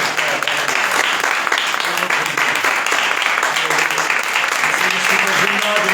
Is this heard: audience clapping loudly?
yes